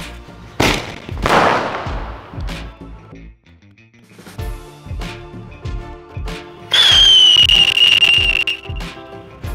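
A Diwali sky shot firework wedged between two bricks and lit, giving a string of sharp firecracker bangs, a rising whistle and crackling pops, loud and close, with no talking.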